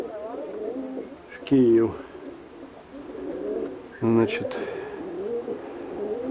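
Pigeons being prepared for a pigeon show in Kyiv coo nearby in two loud, throaty bursts, with softer burbling in between, while someone talks.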